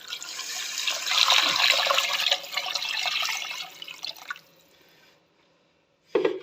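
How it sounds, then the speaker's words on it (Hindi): Water poured into a pot of fried potatoes for a potato and egg soup, a steady splashing pour lasting about four seconds, close and fairly loud, tapering off before a brief clatter. "अब हम इसमें पानी डालेंगे"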